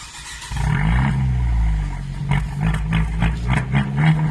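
A car engine cranks and catches, then is revved in a series of short, loud throttle blips close by, with no talk over it.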